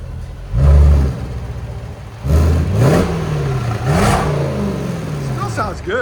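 A 2022 Range Rover SVR with a supercharged 5.0L V8 and stock exhaust revs hard twice, each rise climbing from a steady idle, loud and close with no talk over it.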